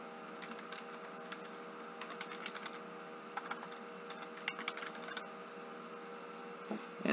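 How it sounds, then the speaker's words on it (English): Address typed on a computer keyboard for a MailChimp sign-up form: a quick run of soft, close key clicks in irregular bursts over a steady low hum, with no talk. "And now when I type in an address here"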